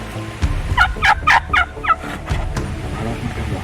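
Wild turkey gobbling during spring turkey season, a loud close burst of rapid rattling gobbles in a few quick bouts, with faint rustling and distant outdoor ambience around it.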